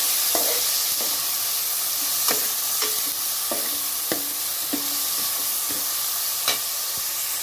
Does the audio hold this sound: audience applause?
no